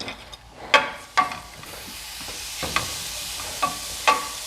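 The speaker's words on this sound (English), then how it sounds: "Let's get these vegetables a chance to cook down a bit." Onion, garlic and carrots fry in a pan for sloppy joes, a soft continuous sizzle broken by several sharp scraping stirs of a utensil at irregular intervals.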